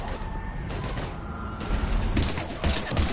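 Gunfire in the Mass Effect Legendary Edition video game during a fight against husks, a dense continuous clatter of weapon fire with heavier bursts building toward the end, loud and close.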